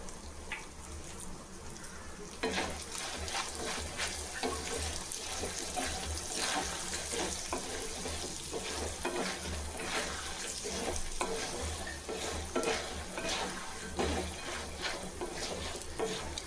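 Asafoetida hitting hot oil while cooking puli kulambu, a steady close sizzle and frying crackle with stirring scrapes running continuously throughout.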